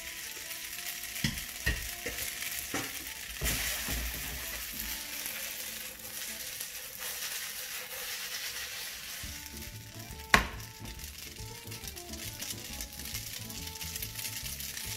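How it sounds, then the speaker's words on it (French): Spaghetti tossed back into the frying pan used for the lardons for a carbonara sizzle and fry steadily, with a few louder stirring scrapes and one sharp clack, no talk. "dans la même poêle où on a fait revenir les lardons, je vais y remettre mes spaghettis"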